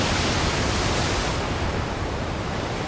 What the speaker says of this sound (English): Waves are smashing and crashing on the rocks up there. The wind is picking up.